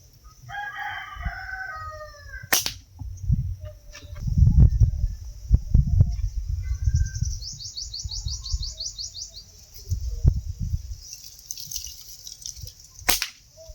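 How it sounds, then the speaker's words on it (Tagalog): Birds chirp and trill intermittently, including a rapid repeated trill, mixed with low rumbling handling noise and a couple of sharp clicks. "Maraming ibon dito sa taas"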